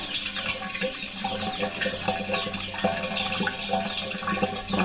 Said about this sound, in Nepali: धारामा पानी आउँछ अनि यसरी घरहरुमा पानीहरु भर्छौं।